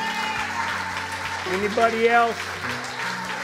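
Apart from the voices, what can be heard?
church congregation applauding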